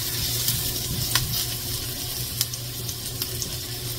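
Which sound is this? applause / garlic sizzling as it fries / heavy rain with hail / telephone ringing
garlic sizzling as it fries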